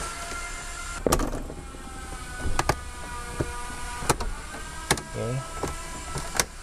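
Several sharp plastic clicks and snaps of dashboard trim clips being pressed into a 2018 Perodua Myvi ring out at irregular intervals over a steady low hum, close by and fairly loud.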